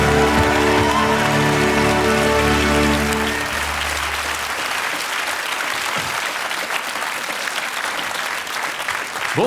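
A TV studio audience breaks into sustained applause as guests arrive on set, dense clapping rising as stage music fades out under it during the first seconds.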